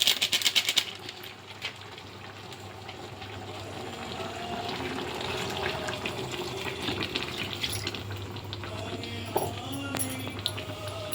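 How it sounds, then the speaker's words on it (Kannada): Water pours into a pan of frying chicken coated in masala powder, giving a steady splashing, bubbling hiss with a few clinks toward the end and no talk. "ಸ್ವಲ್ಪ ನೀರು ಹಾಕ್ತೀನಿ ಇದಕ್ಕೆ"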